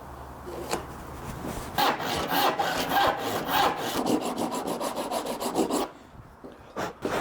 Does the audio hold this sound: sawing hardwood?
yes